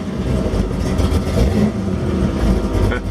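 A 1932 Ford Roadster street rod with a 502 big block V8 runs with a steady, loud, rough rumble close by, no one speaking over it.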